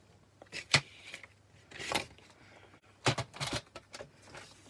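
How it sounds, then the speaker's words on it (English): Scissors snip a small strip of glimmer paper in a few short, crisp cuts spaced across the moment, quiet and close with no talking. "And we're going to cut a small strip."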